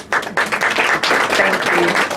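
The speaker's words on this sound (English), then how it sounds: "Please usher him on stage with a resounding round of applause" Applause breaks out from a dinner audience at the House of Lords, a dense patter of many hands clapping steadily for about two seconds after a brief lull.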